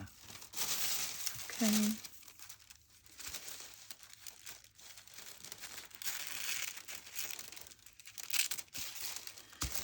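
Paper being cut for a handmade journal topper, giving soft crinkling and snipping rustles in short bursts close by, with a brief spoken word near the start.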